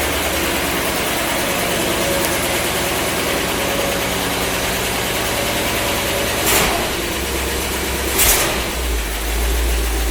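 A 1956 Cadillac Sedan DeVille engine idles with an exhaust leak, a loud, steady rattling chug with a rapid ticking pulse throughout, and two brief hissy surges near the end.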